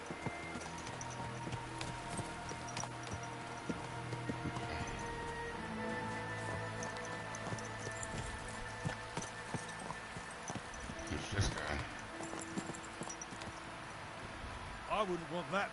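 Horse hooves clip-clop steadily while riding in the medieval game Kingdom Come: Deliverance II, a continuous rhythmic trot under ambient game music and a talking voice.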